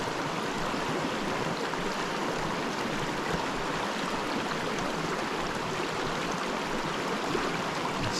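Water flows steadily in a tiny mountain creek with cutthroat trout, a close, continuous broadband rush and babble with no voices.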